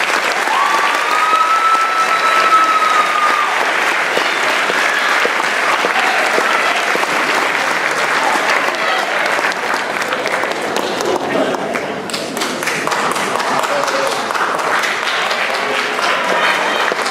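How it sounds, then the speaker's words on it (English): Sustained audience applause fills a senior awards ceremony hall, a dense, steady wash of many hands clapping at even loudness throughout, with a faint voice briefly audible early on. "Please applaud these creators."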